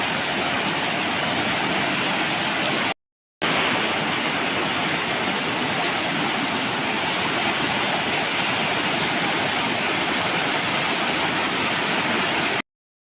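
Rainwater from a heavy downpour rushes through a garden plantation in a loud, continuous roar close by, with one brief break partway through.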